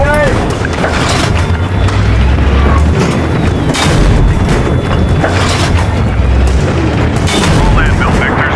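Tank cannon fire in the Battlefield 3 video game: repeated heavy booms and blasts over a constant loud battlefield rumble, with radio-style voices talking in between.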